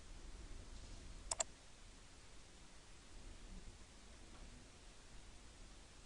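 A single quick computer mouse click, sharp and close, sounds once against a faint steady hiss of room noise while saving a file in Photoshop.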